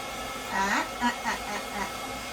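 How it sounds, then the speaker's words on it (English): A steady blowing whoosh of a DUZ pet hair dryer on a dog runs throughout, with a few faint vocal sounds over it. "I can point the dryer where I need it to be pointed"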